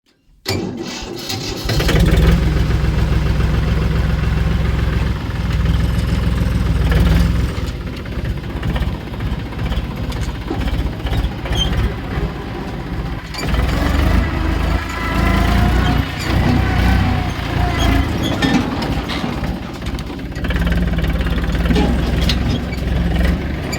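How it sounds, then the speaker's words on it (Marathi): A tractor engine runs steadily and loudly for the whole stretch as the tractor is brought down to haul a second load, its low mechanical drone rising and falling slightly, with no talking. "त्यासाठी आपलं ट्रॅक्टर आणायला चालू आहे खाली"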